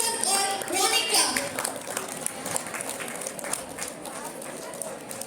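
An audience at a Class XII school farewell applauds to welcome two student speakers, a thick burst of clapping that is strongest at the start and then settles into a steady patter.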